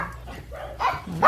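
Several excited dogs bark in short bursts close by at a house, a few loud yaps with whimpers between, brief and noisy.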